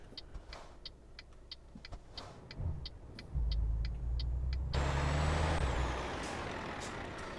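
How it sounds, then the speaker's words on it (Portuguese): Heavy truck in Euro Truck Simulator 2 rumbling with a deep, loud engine, with repeated sharp air-brake hisses and clicks early on, then a strong engine surge and a rising whine as it keeps pulling. "O caminhão tem tão, um motor tão potente que nem o freio segura."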